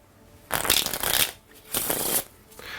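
A deck of cards riffles twice in quick succession, a crisp fluttering rush of paper close to the ear, then a softer settling sound.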